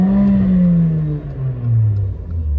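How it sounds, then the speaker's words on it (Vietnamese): Imported Mercedes GLA 45 with a 355-horsepower engine revs through its exhaust, a loud close-up rumble that rises and falls in pitch, then swells again toward the end, heard alone without talk. "nghe thử cái tiếng bô mà em vừa ga ấy"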